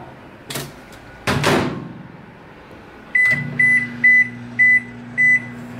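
Two sharp clacks of a microwave door opening and shutting, then a hum starts and a string of five short, even electronic beeps sounds.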